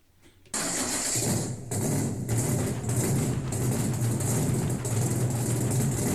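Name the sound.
car engine running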